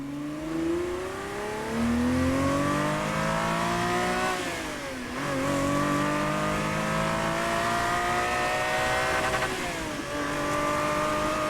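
A Ferrari F50 in Motorfest revving hard, its engine climbing steadily in pitch through rising gear pulls with brief dips at shifts, loud and close, with no talk.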